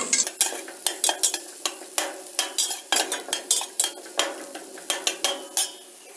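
Onions, carrots and turnips sautéing over medium heat, with a soft sizzle beneath rapid, rhythmic clacks of a spoon stirring and scraping the pan, close and continuous.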